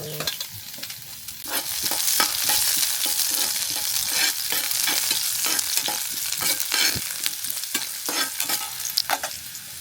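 Onion frying and being stirred in a hot pan, a steady close sizzle running throughout with repeated sharp scraping strokes of the spoon, no voices.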